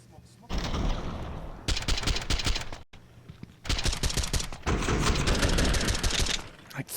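Gunfire during a professional Counter-Strike match at IEM Melbourne 2025: several long stretches of rapid, loud shots with short silent gaps between them. Commentators talk faintly underneath.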